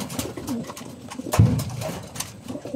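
Racing pigeons coo steadily in a loft, soft rolling calls repeating close by with one louder coo near the middle over a low, busy background.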